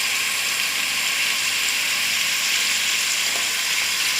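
Onions sizzle steadily in a hot pan for a simple shrimp lunch dish, a constant close frying hiss with no pauses and no voices over it.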